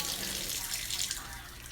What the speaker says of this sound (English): I'm going to turn on my Kangen water.